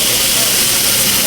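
Tomahawk and prime steaks sizzle on a Korean BBQ buffet grill in Las Vegas, giving a loud, steady, close crackling hiss with no breaks.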